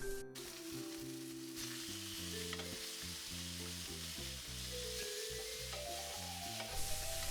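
A strip steak sears in a hot pan, a steady, dense sizzle holding at moderate loudness throughout, with a faint background hum and a small bump as the meat shifts near the end.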